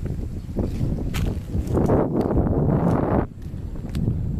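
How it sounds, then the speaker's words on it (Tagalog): Steady outdoor wind buffeting the microphone, loud and continuous for several seconds, easing briefly near the end. "Grabe, ang hangin dito."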